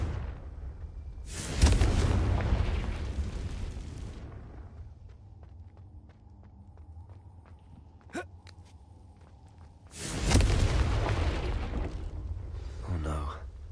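Confringo fire spell explosions in Hogwarts Legacy, two loud, booming blasts several seconds apart, each rumbling and fading over a couple of seconds, with quieter game sounds in between.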